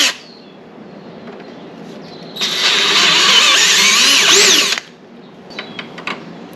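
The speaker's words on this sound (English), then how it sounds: "So I'm going to drill a hole 17/64" A power drill whines steadily for about two seconds as it bores a 17/64-inch hole into metal for Harley foot controls, loud and close, then stops, leaving quiet room noise and faint clicks.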